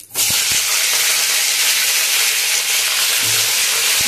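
Cauliflower pieces frying in plenty of hot oil in a wok, a loud steady sizzle that holds throughout with a couple of soft knocks near the start.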